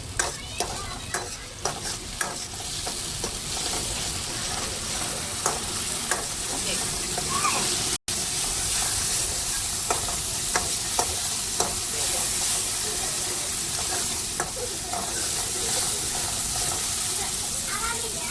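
Onion, tomato, green chilli, ginger and garlic masala frying in a pan for a prawn curry, with a steady loud sizzle and repeated sharp scrapes and clacks of a spoon stirring close by throughout.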